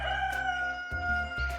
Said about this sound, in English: This next animal is a rooster.